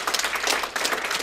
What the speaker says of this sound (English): I want a big round of applause for Kim Farid.